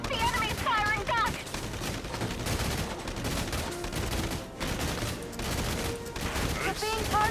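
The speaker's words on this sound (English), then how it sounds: "The enemy's firing back!" Enemy soldiers open fire in Valkyria Chronicles 4, a dense, continuous clatter of rapid gunshots and bursts, loud and close throughout, with game voices calling out briefly at the start and end.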